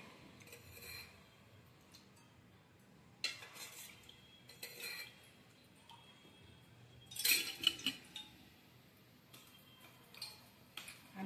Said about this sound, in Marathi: आता पातेलं ठेवले, त्याच्यात तेल टाकते